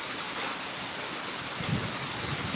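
Steady rain hissing down, a dense even patter with no voices, holding constant throughout.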